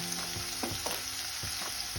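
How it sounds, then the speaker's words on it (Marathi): Curry leaves crackle and sizzle in hot oil for a tadka, a continuous bright frying hiss with a few sharper pops and stirring scrapes, close and steady. "आपण थोडासा कढीपत्ता टाकूया यामध्ये।"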